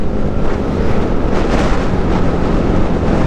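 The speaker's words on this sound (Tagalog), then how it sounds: "Pero grabing hangin guys talaga." Strong wind at Dipaculao's Amper Beach in Baler buffets the microphone in a loud, continuous roaring rush with gusty surges, nothing else audible over it.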